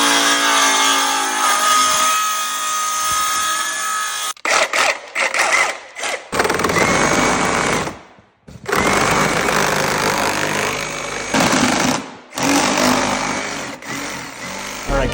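A fully built Subaru STI drives with its engine running loud and close, harsh buzzing revs that cut out abruptly several times between shifts or throttle lifts.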